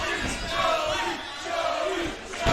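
A wrestling crowd at a live tag-team match roars and chants behind a wrestler, a dense, steady wall of cheering voices swelling and dipping, moderately distant.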